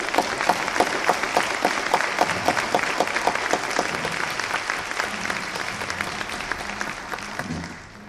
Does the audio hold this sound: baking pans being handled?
no